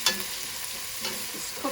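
Onions caramelize in a pan over fairly high heat, a brief steady hiss with a couple of faint stirring scrapes and no talking.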